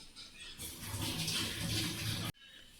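Water pours out of a nonstick pan into a sink in a soft, steady gushing splash that lasts about two seconds and stops abruptly.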